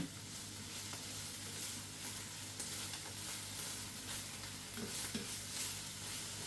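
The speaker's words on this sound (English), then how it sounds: "I'm just moving around the stuff, as you can see, just to bring out the fragrance and the flavor of the onions, you know, the peppers" Onions and peppers sautéing in the barest film of oil, stirred around the pan: a soft, steady sizzle with faint scraping, quiet and close, with no voices.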